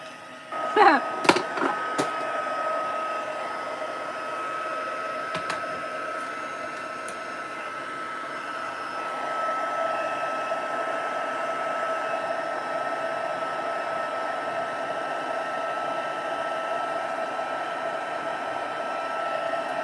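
A hair dryer blows steadily on inked paper craft pieces, a close, continuous whirring hum lasting throughout after a few brief knocks and clicks at the start.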